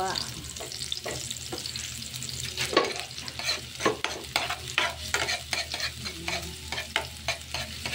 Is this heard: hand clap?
no